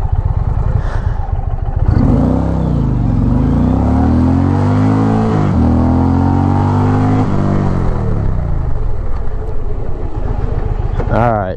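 An Indian Pursuit Limited motorcycle accelerates hard through several rising gears, the engine note climbing and shifting, then braking sharply as revs drop; loud and close, with a voice briefly heard at the end.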